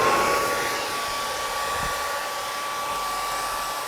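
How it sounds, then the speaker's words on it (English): Hooded blow dryer running on its cool setting, attached to a bonnet hood over thick type 4 hair set in curlformers; a steady, close, continuous airy whoosh with a faint high motor whine throughout, no talking. "Let's attach our blow dryer."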